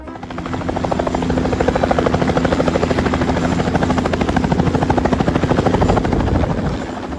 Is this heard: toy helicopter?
yes